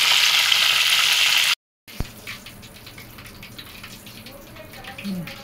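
Marinated masala chicken fries in oil with a loud, bright hiss that cuts off abruptly, then a single sharp clack followed by quieter bubbling and faint sizzle, close by.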